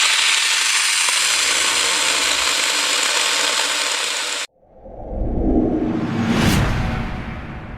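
A small battery chainsaw cuts through wood in the cold, a steady loud buzzing drone that stops abruptly, then a quieter rising whir as the chain spins back up and winds down.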